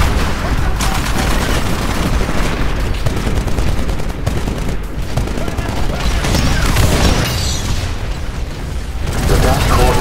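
Sustained automated turret gunfire in the video game Titanfall, a dense, loud barrage of rapid shots and booms running continuously throughout, with game voice lines mixed in.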